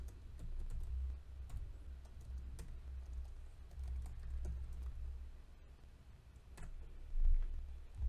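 A command is typed into a terminal on a computer keyboard, producing a steady patter of soft, close key clicks over a low background hum, with no talking.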